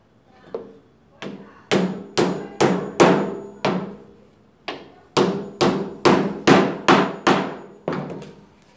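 Hammer driving a nail while building a vertical flower shelf, with about fourteen crisp, ringing blows in steady groups separated by short pauses, each one close and clear.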